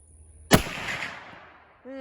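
A single 45-70 Government rifle shot firing a 300-grain Winchester Super X jacketed load gives a sharp, loud outdoor crack with a decaying rumble. A brief voice follows at the end.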